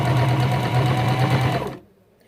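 A Janome HD3000 sewing machine stitches steadily with a fast, even, fairly quiet whirr, then stops abruptly near the end, leaving near silence.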